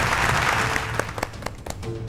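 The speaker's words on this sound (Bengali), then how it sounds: "একটু জোরে হাততালি হয়ে যাক" A studio audience on a Bengali television quiz show gives a short round of applause. The clapping starts full and then thins into a few scattered, distinct claps as it dies away.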